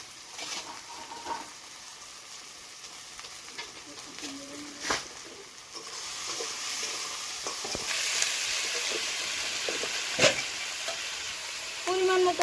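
Garlic and chili frying in hot oil while a crab curry is cooked, a steady loud sizzle that swells and intensifies midway, with occasional stirring scrapes and a voice speaking briefly over it.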